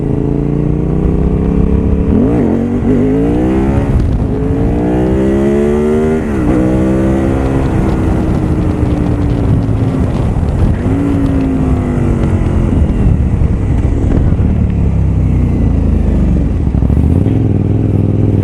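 A loud KTM 990 SMT supermoto motorcycle engine revs repeatedly, its pitch climbing and falling in sweeping bursts as the throttle opens and closes, close up and continuous.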